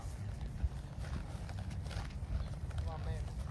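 Horse hooves clip-clopping in an arena during a riding lesson, a steady rhythmic beat near the microphone under a trainer's ongoing talk.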